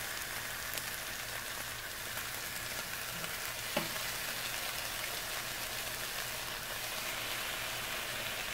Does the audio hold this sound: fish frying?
yes